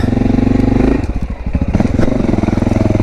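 Honda XR650L dual-sport motorcycle climbing over a log on a trail in the Blue Mountains, a loud close-up thumping engine chug that dips and rises with a clattering scrape in the middle.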